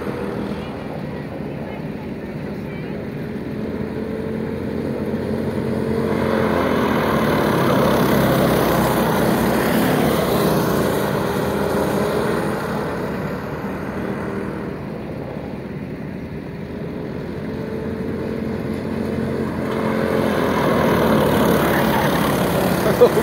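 Race cars at a heat race, engines droning and swelling in waves as they pass at a distance, with a steady crowd-like wash and voices talking over the motor noise.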